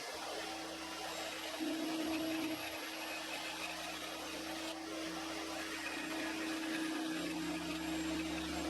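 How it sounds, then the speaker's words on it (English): A bandsaw runs with a steady motor whine while cutting out a locking mechanism piece for a rip fence, its tone dipping briefly as the blade bites, close and continuous with no talking. "we'll take this over to the bandsaw and cut it out"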